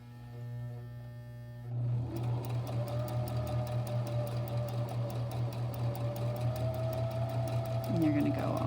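A sewing machine runs steadily, stitching a straight line back along a buttonhole. The motor hum and needle rhythm are even and continuous from about two seconds on, close and fairly loud, with a quieter stretch just before it starts.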